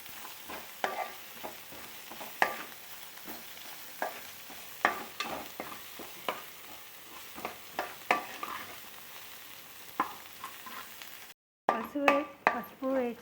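Ginger and turmeric stirred as they fry in a pan: a steady run of scraping, clinking spatula strokes over a low sizzle, interrupted by a brief silence near the end before a few brighter clatters return.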